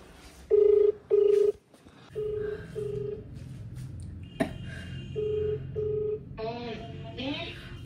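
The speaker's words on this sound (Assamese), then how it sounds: "মাক ফোন কৰোঁ এটা" A telephone number is dialled by keypad, producing a series of distinct steady beeping tones: two loud ones first, then several softer ones at a regular pace, with a short clack and a brief busier tonal passage near the end.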